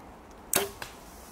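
An arrow from a budget bow with a hinge release strikes another arrow lodged in the target, giving a sharp crack and a smaller second knock just after, with no talk over it.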